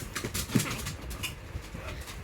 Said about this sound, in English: Is that the same dog that came up and said hi a second ago?